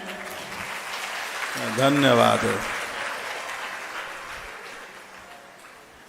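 A crowd claps steadily at a Hindu religious discourse. A voice briefly rises over the applause, which then slowly fades away.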